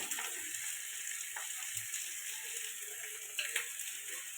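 Spices with chili and cumin powder fry in a pan for a fish curry, giving a steady soft sizzle with a faint hiss and a few light stirring knocks.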